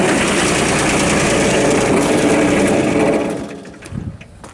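Diesel engine of a 2006 Kubota RTV900 side-by-side UTV, a 4x4 utility vehicle with hydraulic dump bed, runs loud and steady at close range, then drops away near the end with a brief low rumble.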